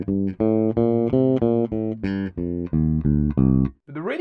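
A deep, buzzy bass guitar line in C Dorian plays a choppy groove of short held notes with brief gaps, ending on a quick bending slide.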